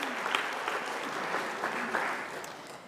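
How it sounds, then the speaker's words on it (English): Steady applause from an audience at a community talk on conscious communication, dense and continuous at moderate distance, with a few brief voices showing through. "Give them a round of applause."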